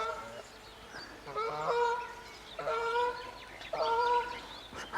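Several geese honk loudly in repeated bursts, harsh calls overlapping as they pass, with short gaps between volleys.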